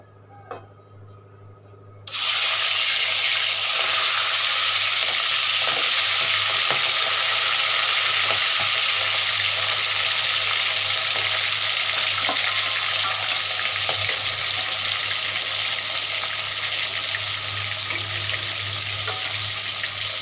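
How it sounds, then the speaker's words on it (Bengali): Prawns seasoned with salt and turmeric fry lightly in a pan for cabbage ghonto, a steady loud sizzle that starts suddenly after a quiet moment and continues unbroken with faint stirring and scraping. "চিংড়ি মাছগুলোকে হালকা করে ভাজছি।"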